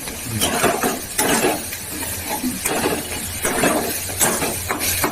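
Spatula scraping and clattering in a pan as Kashmiri chilli powder, coriander powder and a little sugar are stir-fried for a katla fish curry with tomato and green chilli, in steady repeated strokes, close and moderately loud.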